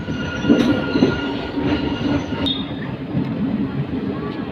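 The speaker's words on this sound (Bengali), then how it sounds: "রাতের অন্ধকার আকাশ ট্রেন আমাদের প্রবেশ করছে এখন কামাখ্যা জংশনে" A train enters Kamakhya junction at night, its coaches rumbling steadily with wheel squeals and metallic screeches breaking through the rolling clatter.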